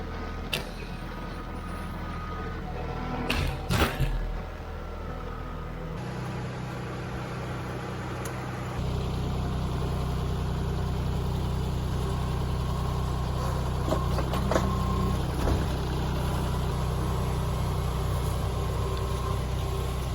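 A tractor engine drones on at idle, low and constant, with a few clunks early on and a louder rumble taking over partway through.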